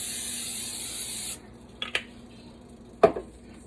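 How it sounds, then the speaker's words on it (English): Cooking spray hisses into a heated frying pan before spam is fried, a steady close spray lasting just over a second, followed by a few light clinks and a sharper knock of the can or pan. "I'm going to put a little cooking spray in the pan."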